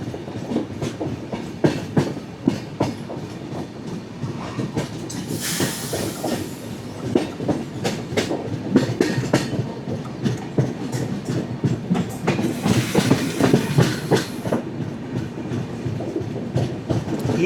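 Passenger express train running on rails near Hyderabad, with steady wheel rumble and clickety-clack joint rhythm close by, swelling into brighter hissing rail noise twice as the carriages roll on; no talking.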